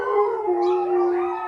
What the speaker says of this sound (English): My dogs are getting wild.